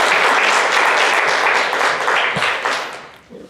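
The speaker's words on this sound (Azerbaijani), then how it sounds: "Alqışlayaq yoxsa?" Audience applause at a live podcast event, dense and loud clapping filling the room for about three seconds before tapering off at the end.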